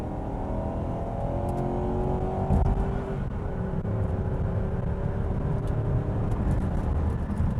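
A Volvo XC90 SUV with a 4.4-liter V8 accelerates under moderate throttle, its engine note rising steadily. A continuous, fairly loud cabin drone and road noise carry through without talk.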